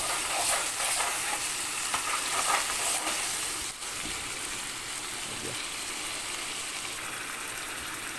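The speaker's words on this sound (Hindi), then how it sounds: "हम गोश्त में भून रहा हूँ अभी।" Mutton for white karahi browns in a hot pan, a steady loud sizzle and frying hiss with occasional stirring scrapes, dipping slightly midway and continuing evenly.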